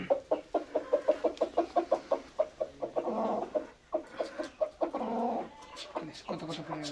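Several chickens cluck in a rapid, steady series near a fishing spot, and someone speaks over the clucking partway through.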